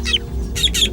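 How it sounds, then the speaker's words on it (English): A drongo gives a sharp alarm call to warn meerkats of a hunting eagle, three bright, rasping chirps close by against a low background rumble. "He spots an eagle on the hunt and sounds a warning."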